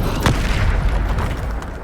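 Spell impacts from the Hogwarts Legacy video game land as a dense, booming blast with a sharp hit near the start, followed by a rumbling, crackling wash that stays loud throughout.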